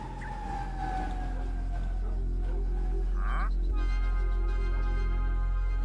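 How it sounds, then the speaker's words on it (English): Distant sirens wail faintly, with a falling tone early on and more sirens sustained later, set against a low steady background hum. "Lots of sirens."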